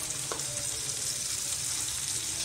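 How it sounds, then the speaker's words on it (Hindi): A spiced masala for jackfruit curry fries in a pan with a continuous, close, even sizzle throughout, and a light stir or scrape near the start. "अब हमने इसको खोल के देखा तो हमारा मसाला फ्राई हो गया।"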